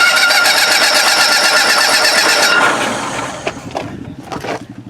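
The engine of a 1963 Cushman Mailster cranks and starts, a loud, close, buzzing mechanical roar that suddenly drops off and is followed by sputtering bursts and a few knocks, with no talk.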